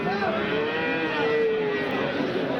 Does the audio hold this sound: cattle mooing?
yes